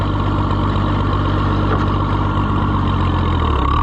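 An Oliver 77 tractor engine runs steadily as the tractor moves, a loud, continuous low rumble that stays close and constant throughout with no voices over it.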